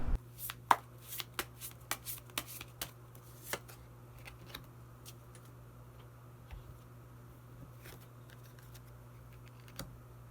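Tarot cards shuffled and drawn in a quiet room: a run of sharp, close riffling snaps in the first few seconds, then sparse soft taps and card slides over a steady low hum.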